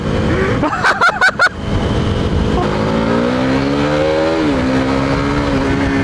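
A KTM Duke 390 motorcycle (old BS3 version) accelerating hard, with a few sharp stuttering bursts near the start before a loud, close engine note climbs steadily in pitch, dips at a shift, and keeps rising.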